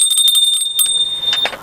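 A brass puja bell for Hindu worship rings with several quick bright strikes, followed by a sustained metallic ring that fades, close and loud, with no voices.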